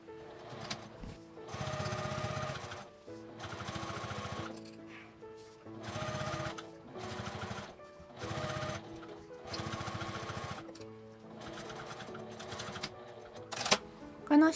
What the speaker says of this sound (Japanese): 正しくついていたら引っ張って端ミシンをかけます。